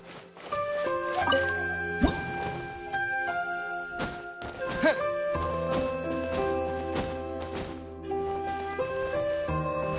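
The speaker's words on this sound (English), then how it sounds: "Wow, another water droplet just came out from the wall!" Water droplets emerge from a wall in the video game Genshin Impact during a summer event, heard as soft dripping plops and squishy thunks over a steady bed of tonal game music.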